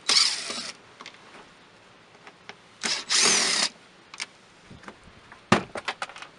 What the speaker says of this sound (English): We're gonna take off these two faceplate screws here that house the door lever and the unlock and lock button.